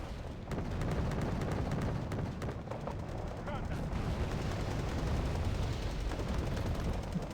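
Bombing in a naval video game makes a continuous, dense rumble of blasts and gunfire-like cracks that stays steady and moderately loud throughout.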